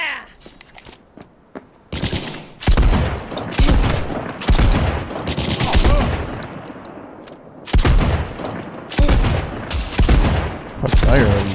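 Gunfire in the video game Cyberpunk 2077, loud repeated bursts of rapid shots in several volleys with short pauses between, close and dominant, with voices in the background.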